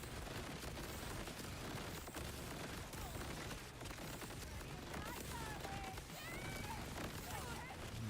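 Rapid gunfire in the Borderlands 4 video game, a dense, continuous barrage of shots and bursts under a speaking voice, heard faint and low in level.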